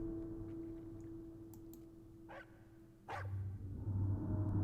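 Dogs bark as a sound effect in a tabletop fantasy role-playing session. A few short barking bursts rise over a steady low hum, with the background growing louder toward the end.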